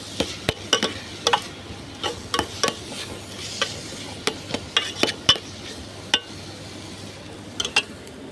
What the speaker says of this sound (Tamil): மிளகாய்த்தூளை போட்டு கொஞ்சம் அப்படியே வதக்கி